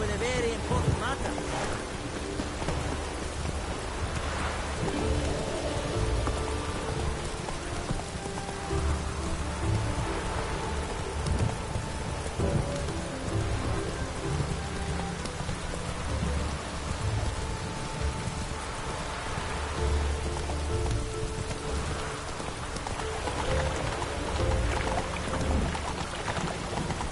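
Rain falls steadily in The Witcher game, a continuous hiss of drops over a low rumbling bed, with game voices talking intermittently over it.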